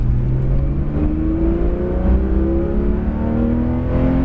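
A Porsche 911 GT3 RS (991.2) with PDK gearbox revs steadily and climbs in pitch as it accelerates on a track at Le Mans, a loud, continuous drone with rising harmonics, close by and without voices.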